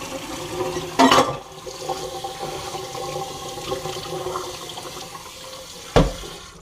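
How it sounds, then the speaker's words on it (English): Tap water runs steadily into a sink while goose meat gets a final rinse, with two louder splashing knocks against the basin, one early and one near the end. "You can give it one final rinse if you want."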